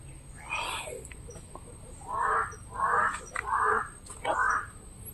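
A crow caws outdoors at night: several hoarse calls, one early and then a run of four closer together, rising over a steady bed of crickets and insect noise.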